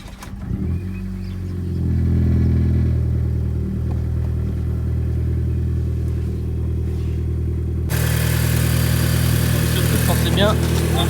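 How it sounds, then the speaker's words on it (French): An Audi TT engine starts and settles into a steady idle after an oil and air filter change, a close continuous low rumble with a brief rise at start-up, and a person talking over it. "On laisse tourner un peu le moteur, l'histoire que elle circule partout."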